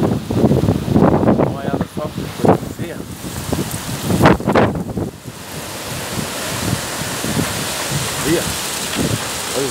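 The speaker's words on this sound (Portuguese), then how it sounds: "Olha o temporal em Dourados aqui, ó." Storm in Dourados, Brazil, with strong gusting wind roaring and buffeting the microphone alongside hissing rain, loud and close, while a person talks excitedly over it in bursts.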